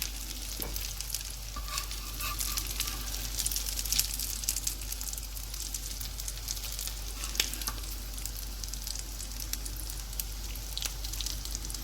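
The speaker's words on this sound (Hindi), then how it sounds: "और इसी तरह से हम बाकियों को भी फ्राई कर लेंगे।" Shami kababs fry in oil in a pan with a soft, steady sizzle and scattered crackling pops, faint and continuous throughout with no voices.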